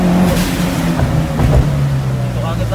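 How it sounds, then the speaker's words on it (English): A Fast & Furious-style Mitsubishi Eclipse runs its exhaust with a steady, droning engine note that rises and falls slightly, loud and close, while people talk over it. "Nakakaloko yung exhaust kasi yung gradient tahimik eh."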